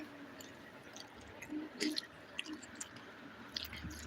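Someone chews fried okra (vendakka fry) close to the mic, with soft wet squishing and a few crunchy bites spread over a few seconds against a quiet background, and no talking.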